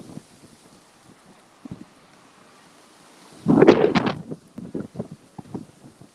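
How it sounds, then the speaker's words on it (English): Strong wind buffets the microphone in a loud roaring gust midway, with quieter rumbling wind before and after. "Wow, it is windy."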